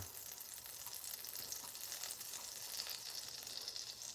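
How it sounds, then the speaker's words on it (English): Butter and olive oil melting in a pan produce a faint, steady crackling sizzle that stays even throughout, quiet and close with no voices. "I've got about 2 tablespoons of butter that we're going to melt. We're going to add a little bit of olive oil that keeps the butter from burning."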